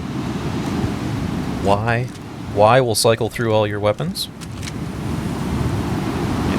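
Steady, hissing snowstorm wind in the Star Citizen video game blows throughout, with someone talking over the middle of the gusts.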